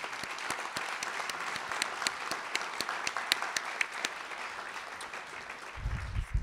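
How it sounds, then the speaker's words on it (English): An audience applauds a panel at a business presentation, a steady crowd of clapping with several sharp close claps standing out near the microphone, fading slightly toward the end as a low rumble comes in. "Let's give them all a round of applause."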